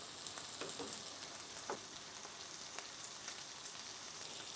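Corned beef fries gently in a pan, giving a faint, steady sizzling hiss with a few soft crackles and pops, heard alone at low volume.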